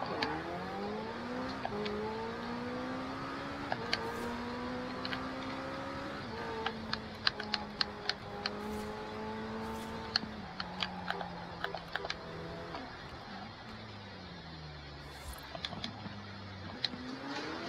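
McLaren Senna engine in Forza Horizon 4 revving through repeated gear shifts, pitch climbing and dropping in stepped sweeps, heard from inside the car at moderate level, with frequent sharp clicks of keyboard or controller input over it.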